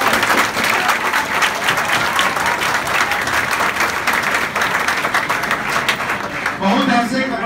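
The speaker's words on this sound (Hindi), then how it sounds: "ताली लगा दो यार, ताली लगा दो।" Audience applause breaks out at a career-planning results session, loud, dense, continuous clapping from many hands that carries on for several seconds before dropping away at the very end.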